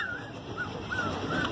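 A small dog whimpers in a series of soft, high, wavering whines, about four short cries close by in a quiet room.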